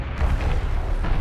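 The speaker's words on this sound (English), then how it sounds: "He just fires its little guns up into the air." Anti-air guns firing in Homeworld: Deserts of Kharak, a dense, loud rumbling barrage of rapid booms with no gaps, heavy in the low end and lasting just over a second.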